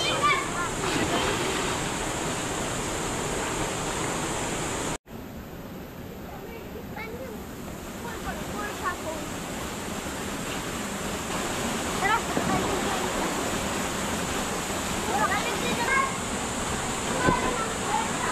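The Malaking Tatyao waterfall in Silang, Cavite roars as a steady broadband rush of falling water, close and continuous, with people's voices faintly heard over it.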